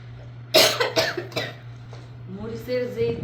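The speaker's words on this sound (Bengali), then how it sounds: "কাশি এসে পড়ছে।" A person coughs several times in a quick burst, close and loud, then speaks briefly while a low steady hum runs underneath.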